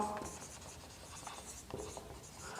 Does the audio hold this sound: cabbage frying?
no